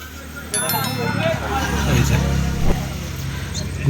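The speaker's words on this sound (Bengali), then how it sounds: "এই হলো সদর রাস্তা অর্থাৎ এটা হলো ঢাকা পিরিজপুর মহাসড়ক" Passing cars and other road traffic on the Dhaka–Pirojpur highway, a steady roadside roar with a brief louder surge, mixed with a background murmur of voices.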